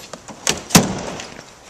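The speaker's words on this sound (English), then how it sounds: "you'll hear the clips come undone" Plastic retaining clips on a Smart 450 car door panel popping free as the panel is pried away, giving a few sharp snapping clicks close by, with the loudest one near the end, and no talking.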